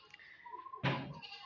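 A goat bleats loudly nearby with a wavering, drawn-out cry. Partway through, a sudden heavy thunk cuts in, then the bleating carries on faintly.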